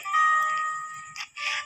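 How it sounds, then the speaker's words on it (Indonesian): A prepaid electricity token meter gives a warning beep: a loud, steady electronic tone holds for about a second, then two short, brighter beeps follow, with faint background noise underneath. "Token listriknya bunyi."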